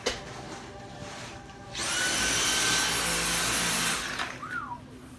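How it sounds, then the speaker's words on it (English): A Dyson SV10 Animal cordless vacuum cleaner switches on partway through, whining loudly and steadily for about two seconds close by, then spins down with a falling tone, after faint handling noises beforehand. "And I'm back to vacuuming."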